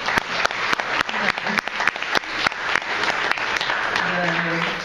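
A large group at a coaching conference in Bordeaux claps for a participant, dense, sharp applause that settles into a steadier patter, with a voice speaking over it near the end.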